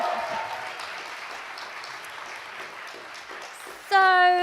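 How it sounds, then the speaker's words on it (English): Audience applause for poets at a live poetry event, steady broadband clapping from a crowd that continues throughout, with a brief tonal sound entering near the end. "Let's have a big round of applause for Laura DeVivo, James Sugden, and Renee Richards."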